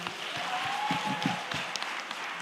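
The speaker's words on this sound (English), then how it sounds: "Can we give him a round of applause, please?" Applause from the audience at a regional entrepreneurship competition between colleges, steady moderate clapping heard from a distance for a couple of seconds, with a few louder claps standing out.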